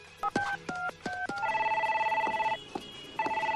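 A telephone rings with short electronic tones, first in choppy repeated bursts and then in a longer sustained ringing pattern that pauses and resumes, loud and close with no talk.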